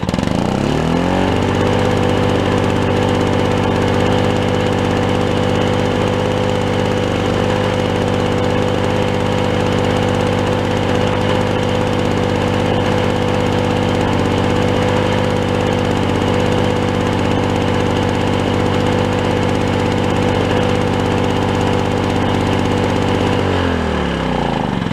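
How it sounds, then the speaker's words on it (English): A two-stroke Lawnboy lawn mower with a V engine runs at a steady, loud, unbroken drone for the whole stretch, then cuts off at the end. "I really like the V engine. It sounds really like the older F series."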